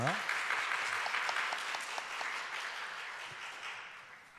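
A church congregation at a members' devotional sharing event claps to welcome a speaker, a steady wash of applause from a roomful of people, moderately loud, tapering off near the end.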